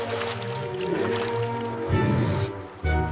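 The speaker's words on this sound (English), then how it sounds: "Daddy Pig burst out of the water with a giant splash" A cartoon pig bursts up out of swimming water with a big splash, a loud churning burst of water rising over a busy musical backdrop, then a second sharp splash near the end.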